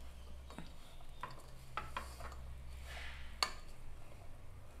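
Bacon (toicinho) stirred into feijão tropeiro beans in a pan, quiet scraping and scattered utensil clicks over a low steady hum, with one sharper tap near the end.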